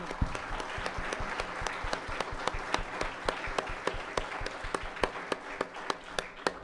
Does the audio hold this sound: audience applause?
yes